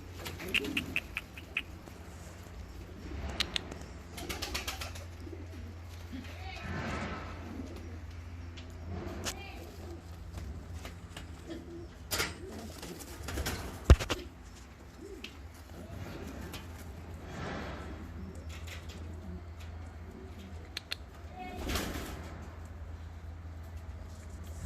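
Black Polish fancy pigeons cooing, soft repeated low coos spaced irregularly over a quiet background, faint and close.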